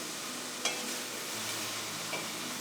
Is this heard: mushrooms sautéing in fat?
yes